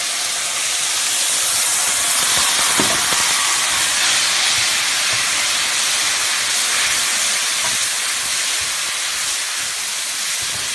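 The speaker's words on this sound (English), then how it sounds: "Pour a little bit of the pasta water in there." Loud, continuous sizzling hiss of pasta water hitting a hot pan, steady and close throughout with no talking.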